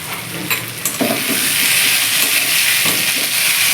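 Ridge gourd and prawns fry in a pan as jaggery is stirred through, a loud, continuous close sizzle with a few scraping knocks of the spoon early on, no speech.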